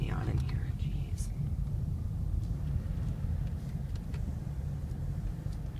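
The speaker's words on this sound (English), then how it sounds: "I'm gonna get the AC on in here" Air conditioning blows inside a 2013 Ford Fusion 2.5 SE, a steady low rumbling airflow with broadband hiss, a few faint clicks and a brief breathy sound near the start.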